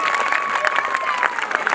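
A school annual function audience claps after a girls' dance performance, a brief dense burst of applause with some crowd noise mixed in.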